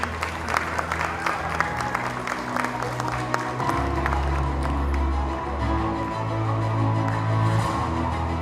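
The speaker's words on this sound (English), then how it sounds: "Give a great round of applause for Brian Anderson for receiving this honorable award." An audience at a global community awards gala applauds award winner Brian Anderson. Brisk clapping fills the first half, then thins under a low, steady tonal hum while scattered claps continue faintly.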